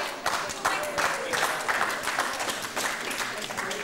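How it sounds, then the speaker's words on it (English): Sustained applause from an audience at a school reunion, a dense wash of many hands clapping steadily at moderate distance with a faint murmur mixed in, continuing without pause. "Ladies and gentlemen, can I also then have your applause?"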